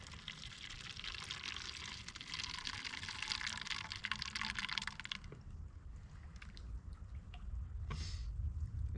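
Water from a stream pours and splashes into a water bottle being filled while backpacking, a steady close rushing gurgle that cuts off about halfway and gives way to quieter trickling and ambient flow.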